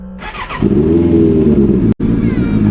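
A Benda LFC 700 Pro motorcycle revs up close and loud, and its engine roars steadily as the bike rides off, with one brief cut in the sound near the end.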